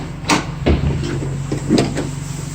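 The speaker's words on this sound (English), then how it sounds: "Doors do swing out all the way." The rear doors of a 2017 Ford Transit van swing open with a few close, hollow clunks and knocks spread over a couple of seconds.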